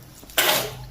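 One short sneeze, close and fairly loud, bursting out of quiet room noise.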